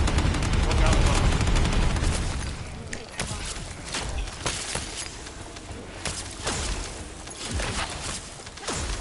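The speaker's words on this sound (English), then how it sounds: "On your signal, we'll initiate suppression fire" Suppression gunfire from air support in the video game Descendant, heavy sustained bursts and explosive cracks rolling continuously, loud and dense, easing slightly after the first few seconds.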